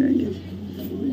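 A plump grey barless female racing pigeon coos in a low, steady murmur close by, with someone talking over it.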